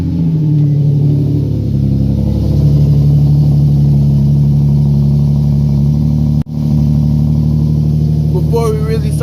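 Infiniti G37xs sedan with a full single-exit exhaust system, its engine droning loud and close with steady rumbling revs and one brief dip, while someone talks over it.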